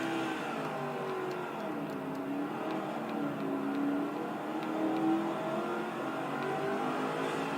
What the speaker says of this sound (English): He's really driving that race truck very hard right now